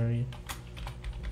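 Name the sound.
typing an email on a computer keyboard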